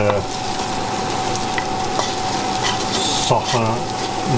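Onions tipped into hot olive oil for a paella fry with a steady close sizzle, while a spoon scrapes and stirs in occasional strokes and a few clinks of the pan sound near the end.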